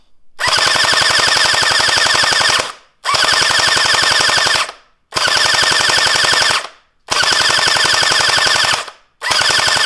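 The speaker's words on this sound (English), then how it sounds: "Let's shoot here and let's see what kind of FPS we're getting." Cosmoxtoys Sirius gel ball blaster toy firing in full-auto bursts: five long, loud buzzing streams of rapid shots, each about two seconds, separated by short silences, close up with no talking.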